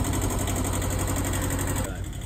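An old engine of uncertain origin idles steadily, a loud, close, continuous low rumble with an even rhythm that holds for the whole stretch and drops slightly at the very end.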